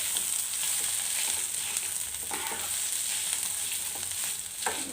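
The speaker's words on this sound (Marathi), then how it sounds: "ते पण त्याच्यामध्ये टाकून द्यायचे परत एकदा व्यवस्थित परतून घ्यायचं" Mashed boiled potatoes sauté in a hot pan for a fasting-day potato sheera, a continuous sizzling hiss with soft scraping stirs recurring throughout, close and steady with no talking.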